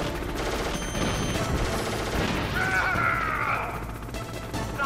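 Dense gunfire rattles almost continuously during a Hind D helicopter fight in Metal Gear Solid, loud and busy, mixed with crashes and a rising mechanical whine partway through.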